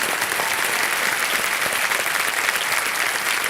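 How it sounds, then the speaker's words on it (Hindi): Loud, dense studio audience applause on a televised quiz show, steady and continuous clapping close up for the whole stretch. "जोरदार तालियां बज जाए इनके लिए।"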